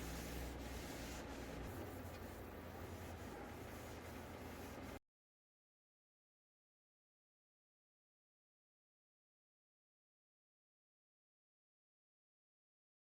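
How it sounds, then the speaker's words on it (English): A wooden buffet gets scuff-sanded by hand with 120 grit sandpaper, a steady close abrasive rasp for about five seconds before cutting to silence. "I scuff sand the entire surface of the buffet with a 120 grit sandpaper"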